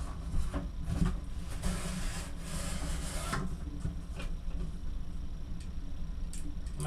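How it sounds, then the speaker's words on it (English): Cardboard is cut to a 12-inch width while building an anchor locker for an Alberg 30 sailboat, producing close, irregular scraping and rasping strokes that bunch together early and then thin out. "So I'm cutting some cardboard."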